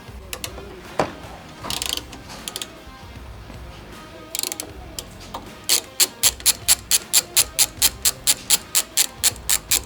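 A ratchet wrench with a T40 Torx bit clicks as stock hardware bolts are backed out of a truck's tie-down mounts, starting with a few scattered turns, then settling into a fast, even run of sharp close pawl clicks.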